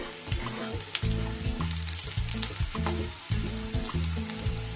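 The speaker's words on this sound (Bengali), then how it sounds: "যতক্ষণ না আদা রসুনের কাঁচা গন্ধটা যাচ্ছে ততক্ষণ আমি এটা ভালো করে নিয়ে নেব তেলে" Chopped ginger and garlic fry in hot oil with a loud, steady, close sizzle, broken by a few spoon strokes as the mixture is stirred in the pan.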